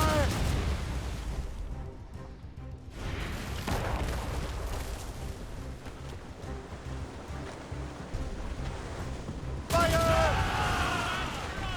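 Broadside of ship cannons in the naval battle of Assassin's Creed Rogue, a rolling barrage of heavy booms and blasts over churning battle noise, with shouted voices cutting through.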